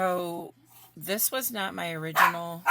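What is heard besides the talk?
dog barking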